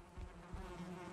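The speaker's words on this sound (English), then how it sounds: "I want these bees." Bees in the survival game Valheim buzz in a low, steady hum around a hive, close and fairly quiet, with a couple of soft thumps beneath.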